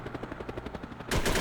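A rapid burst of steady automatic gunfire from the player's weapon in the SOCOM US Navy Seals video game rattles on for about a second, then a louder, denser blast of noise takes over at the end.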